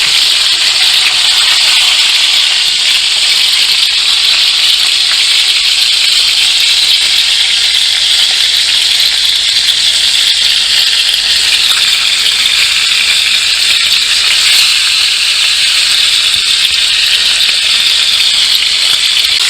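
Steak sears in a pan as Kerrygold pure Irish butter melts in, giving a loud, unbroken hissing sizzle that holds at full strength for about twenty seconds with no talking.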